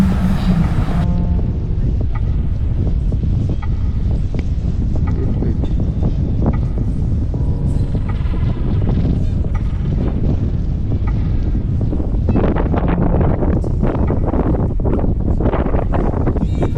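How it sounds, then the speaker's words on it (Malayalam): Strong wind on D'Hainaut Island, Antarctica, roars and buffets the microphone continuously at close range, with gusting rumble and rustling throughout. "ഇവിടെ ഇപ്പൊ നല്ല കാറ്റടിക്കുന്നുണ്ട്."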